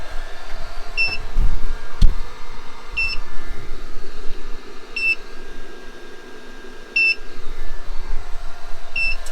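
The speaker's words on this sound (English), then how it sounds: "I think it's the inverter beeping at me." A power inverter beeps at regular intervals, roughly every two seconds, over a low steady background hum, as its battery runs out.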